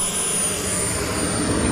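Jet aircraft engine roar at an air show rally, an L-39 Albatros trainer jet, heard as a loud, steady broadband rumble and whine held throughout without a break, close and dominant.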